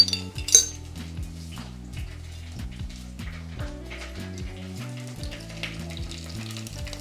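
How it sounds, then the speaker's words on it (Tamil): Fenugreek seeds frying in oil for a Tamil sambar, a steady close sizzle with metallic clinks and scrapes of a utensil against the pan throughout, plus a sharp rattle near the start; no voices. "வெந்தயம் கொஞ்சம் போடுவோம்."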